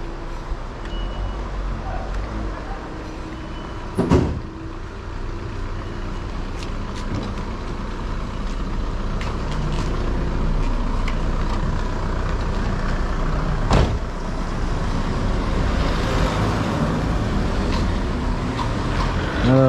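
Cars and heavy vehicles pass along a busy village street in Combani, Mayotte, a loud continuous traffic rumble with engines swelling and fading and a few sharp knocks, recorded close to the road.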